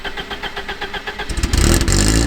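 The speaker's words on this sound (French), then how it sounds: "si on se le démarrait, je peux un petit coup de clé comme ça là" A 1989 BMW E30 316i is started with the key: the starter cranks in a quick even rhythm, then the engine catches and roars into a loud, steady idle close by.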